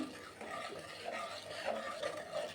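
A spoon stirs sugar into custard fruit salad in a bowl, giving soft, continuous scraping and swishing strokes that stay quiet and close, with no talking.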